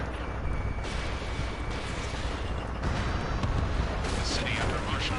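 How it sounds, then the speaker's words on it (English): Ace Combat 7 battle in a city under martial law: a dense, continuous rumble of gunfire and jet roar, heavy low booms and crackling bursts layered together, loud and unbroken throughout. "Gunfire and the roar of jets echoing through the streets."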